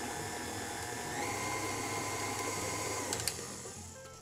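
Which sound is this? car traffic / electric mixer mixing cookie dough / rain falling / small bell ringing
electric mixer mixing cookie dough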